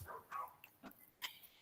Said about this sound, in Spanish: parece que los perros se pusieron, son los perros de mi vecino